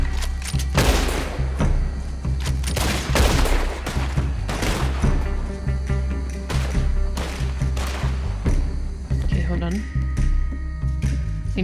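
Bursts of gunfire in Red Dead Redemption 2 crack out in rapid, repeated volleys with heavy thumps, loud and continuous, with people talking over the shooting.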